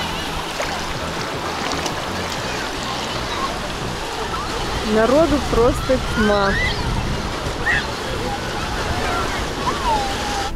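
Sea waves rolling onto a crowded beach, a steady wash of surf and wind noise throughout, with someone talking over it partway through.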